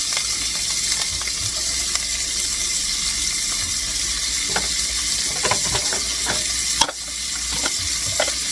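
Green onion sizzles steadily and loudly in a pan with warm bacon sweet-and-sour dressing, a continuous crackling hiss broken by occasional light clicks of stirring.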